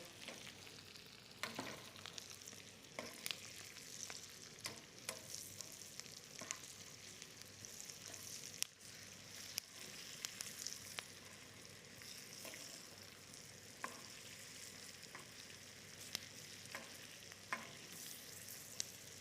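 Food fries in browning butter in a pan, a quiet, steady sizzle with intermittent crackles and stirring clicks throughout, no voices.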